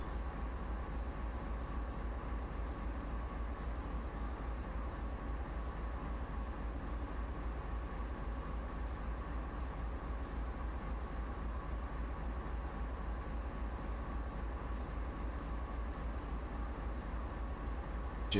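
A train runs in the game Train Sim World 2, a steady low rumble with a constant engine drone and faint regular rail clicks, even and unbroken throughout with no voices.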